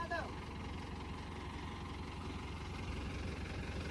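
A tractor engine idles with a low, steady rumble and rhythmic knocking, continuous and fairly quiet, beside a river embankment being built up.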